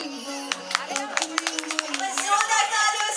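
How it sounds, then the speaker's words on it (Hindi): Audience applause at a birthday celebration event in Patna: scattered claps ring out and build into a fuller patter, with voices talking over it. "जोरदार तालियों से स्वागत किया जाए"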